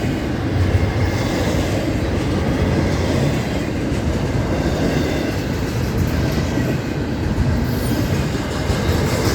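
A long double-stack freight train rolls steadily past close by, its wheels rumbling and clattering continuously over the rails, with no voices.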